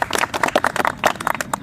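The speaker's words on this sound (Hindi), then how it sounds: "ताली हो जाए सभी के लिए, बजा दीजिए" A classroom audience at a Patna College group-discussion session claps for exam toppers, a quick, uneven patter of many hands that sounds close and lively, with no talking over it.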